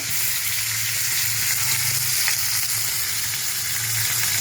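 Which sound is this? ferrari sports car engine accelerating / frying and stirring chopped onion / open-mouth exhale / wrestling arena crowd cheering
frying and stirring chopped onion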